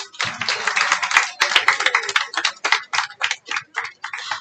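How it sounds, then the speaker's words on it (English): Audience at a secondary school graduation ceremony claps for an honoree, a sparse, uneven patter of individual hand claps from a small crowd, close and fairly loud, with no speech. "Let's applaud Jaheim."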